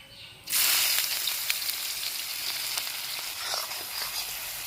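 Onion dropped into hot oil with bay leaves and whole garam masala, bursting into a loud, steady sizzle after a quiet start, with faint crackles and pops over the continuous frying hiss.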